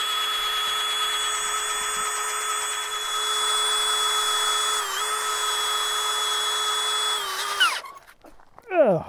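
A power drill spins a bicycle wheel axle chucked in its jaws, a steady high whine with bright tonal overtones that holds and shifts pitch slightly before winding down with a descending whir.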